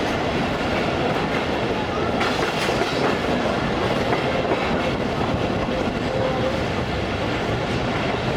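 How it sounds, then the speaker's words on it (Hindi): The Tezgam passenger train runs on rails from Karachi toward Khanpur, heard from inside an economy-class coach as a steady, loud rumble with continuous clickety-clack of wheels over rail joints. "हमारी ट्रेन इस वक्त बलोच कॉलोनी के पास के एरिया से गुजर रही है"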